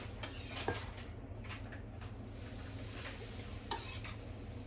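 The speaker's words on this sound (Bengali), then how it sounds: "বাটির আওয়াজ পাচ্ছ?" A bowl clatters in a home kitchen as two spoonfuls of yogurt are scooped out of it, sharp knocks at the start and again near the end over a steady low background hum.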